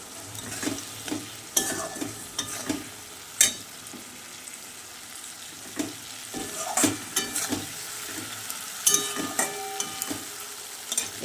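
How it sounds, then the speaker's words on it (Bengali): Tomato and onion with salt fry together in a pan, a low steady sizzle broken by frequent sharp scrapes and clacks of a spatula stirring, some louder knocks against the pan, no voices. "এবার টমেটো আর পেঁয়াজটা একসঙ্গে একটু ভাজা ভাজা হয়ে যায়"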